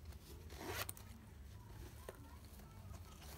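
A zipper on a magic wallet is pulled open once, a quick rasping slide near the mic under a low steady background hum.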